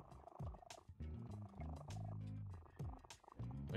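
A cat purrs in the video game No More Heroes, its low rumbling mixed with loud game music and sound effects that rise and fall across the moment.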